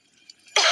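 Children cough in a smoke-filled home where wet firewood is burning, with a short loud burst near the end after near silence.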